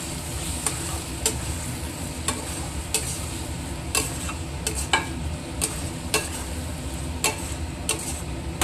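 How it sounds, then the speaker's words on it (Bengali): Chili and cumin spice mix with a pinch of sugar being sautéed in a pan, a low steady sizzle with regular sharp clacks as the spatula scrapes and turns it. "এখন মশলাটা কষাবো"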